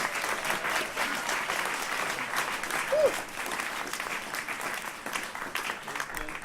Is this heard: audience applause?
yes